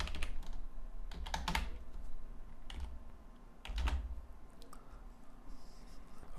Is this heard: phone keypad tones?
no